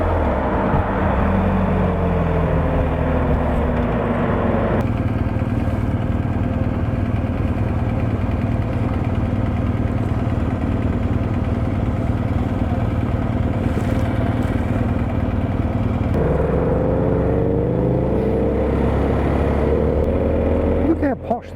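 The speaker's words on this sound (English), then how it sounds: "Geez, all the big Harleys are out today." A big Harley-Davidson motorcycle on a street at Oran Park Town Centre gives a loud, steady low engine rumble that holds throughout, with its tone shifting a few times.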